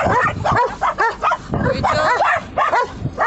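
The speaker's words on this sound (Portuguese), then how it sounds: "Os cachorros" Dogs bark repeatedly on a farm where grass is being cut to feed a herd of horses, with several sharp yips and barks in quick succession and people talking over them.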